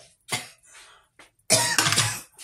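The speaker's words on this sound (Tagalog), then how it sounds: "Inuubo ako kasi, diba, umuulan-ulan, ganyan." A person with a cold coughing in a condo kitchen, two or three close, harsh coughs with short pauses between.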